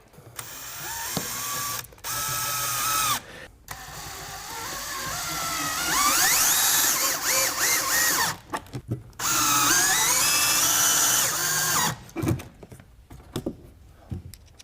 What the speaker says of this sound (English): you're going to use 2 installation screws per bracket.